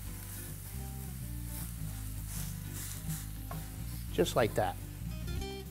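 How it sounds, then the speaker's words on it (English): A pork chop sears in a saute pan with a steady close sizzle throughout, a low hum underneath and a brief stir or press of the meat near the end, with a few quiet spoken words. "when you put it on there, you kind of want to press into the pan to make sure that it's nice and flat on a saute pan"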